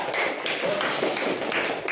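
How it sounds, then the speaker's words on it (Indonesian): A classroom group claps for presenting group A: a short, moderately quiet patter of hands from a small gathering, continuous and somewhat distant. "Tepuk tangan dulu buat kelompok A."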